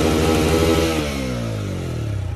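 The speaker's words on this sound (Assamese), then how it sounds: "আজি শুনাম মানে আপাচি আৰটিআৰ 160 চাউণ্ডটো" A TVS Apache RTR 160 motorcycle engine revs loudly nearby, holding a high rough pitch before the revs fall away into a lower pulsing idle, with no voices.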